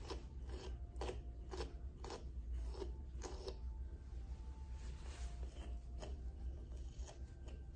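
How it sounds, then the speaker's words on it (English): Brush raking through the matted coat of a Pomeranian during grooming, soft repeated scratchy strokes in an uneven rhythm, close but quiet over a low background hum, with no talking. "While I am line brushing, my goal is to get through the coat, break it all up"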